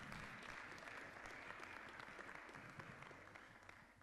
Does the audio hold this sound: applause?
yes